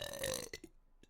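A woman's burp rises briefly after a stretch of soft talk-like vocal sound, with another small burst near the end, close and fairly quiet.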